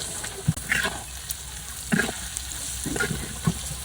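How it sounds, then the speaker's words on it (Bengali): Potatoes frying in a pan with turmeric and chili powder, a close sizzle under repeated stirring scrapes and clinks that come in short bursts about every second. "আলুটা হালকা করে ভাজা দিয়ে নিছি এখন হলুদ মরিচের গুঁড়ো দিয়ে দেব"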